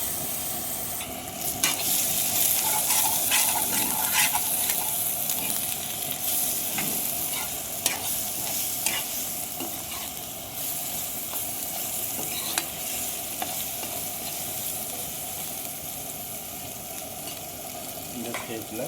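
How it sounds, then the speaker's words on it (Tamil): Ginger garlic paste sautéing and sizzling in a pan for country chicken curry, a steady close frying hiss with occasional scraping stirs, no talk. "இப்படியே வந்து ஒரு 5 நிமிஷம் நல்லா வதங்கட்டும்"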